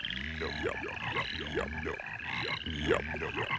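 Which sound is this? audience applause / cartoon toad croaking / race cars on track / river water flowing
cartoon toad croaking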